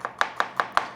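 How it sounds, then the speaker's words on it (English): Five sharp knife strikes on a cutting board, evenly spaced and close, as fermented garlic is minced; crisp isolated chops with no talk. "Here's the garlic from the fermentation. I'm gonna"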